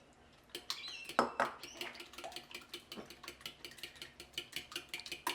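Eggs are whisked in a bowl with a fork or whisk, giving rapid rhythmic clicking taps of metal against the bowl, close and fairly quiet, after a few louder knocks at the start.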